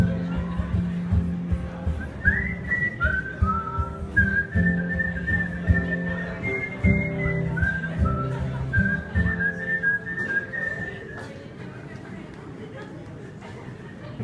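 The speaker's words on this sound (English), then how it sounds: "So I'm gonna whistle the intro." A person whistles the melodic intro of a song, a clear sustained tune of gliding notes over strummed backing music, with faint crowd chatter around.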